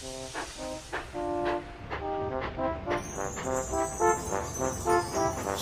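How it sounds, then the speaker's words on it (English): A Tomy Thomas & Friends toy train engine rattles steadily along its track on a snowy layout, with repeated whistle-like tones over a continuous mechanical clatter that runs the whole time. "Duncan rattled along the icy tracks until at last Duncan found James."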